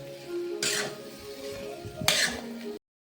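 Vegetables fry with salt in a pan, a soft low sizzle broken by two bursts of scraping stirs, ending abruptly in silence.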